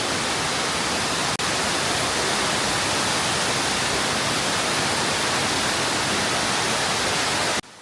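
Uryu waterfall in Kochi, Japan, pours down in a steady, loud, broadband roar that holds constant from start to finish, with a brief click near the start and no voices.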